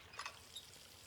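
Water trickles and pours through a tribal-style water system in the video game Riven, with a brief soft splash near the start and faint flowing behind it.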